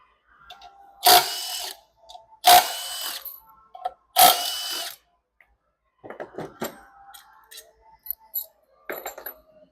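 A power tool spins out three 10 mm bolts from the lower intake of a 6.7 Powerstroke diesel in three loud, close whirring bursts, then lighter clicks and metallic rattles of handled parts.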